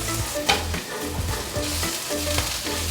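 Ginger slices stir-fried in hot oil for a vegetarian three-cup loofah and mushroom dish, crackling and sizzling steadily up close, with quick scraping stirs over a low stove rumble.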